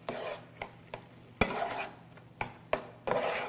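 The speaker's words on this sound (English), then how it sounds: "And we're going to stir this to combine." A utensil scrapes and knocks against a pot while stirring a Trinidad-style melongene (eggplant) dish seasoned with Tabasco hot sauce. Several distinct clacks and scrapes come at irregular intervals over a soft background hiss, close and fairly quiet, with no talking.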